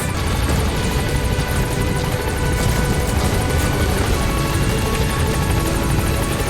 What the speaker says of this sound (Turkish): helikopter aşağı in hazır ol geliyoruz.